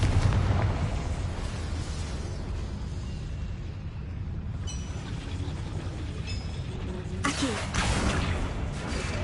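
A Confringo fire-blast spell explodes in the PlayStation game Hogwarts Legacy, a loud rumbling blast with dense low roar that sustains for several seconds, followed by a sharper burst near the end amid continuous battle noise.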